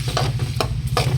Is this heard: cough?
no